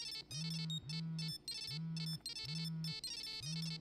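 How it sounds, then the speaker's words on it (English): A portable cellular phone ringtone from the video game Paradigm plays alone, a repeating electronic melody in five evenly spaced bursts, each with a low sustained tone beneath bright, buzzy upper notes. "This is not among the better ringtones,"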